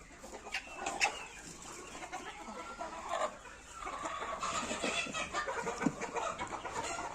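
Pure gavran desi hens clucking inside a farm shed, giving soft, scattered clucks and short calls from several birds amid light rustling, all fairly faint and distant.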